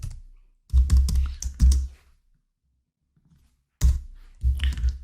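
Someone types on a computer keyboard while writing C code, with a close, loud burst of clacking keys, a pause, then another short flurry of keystrokes.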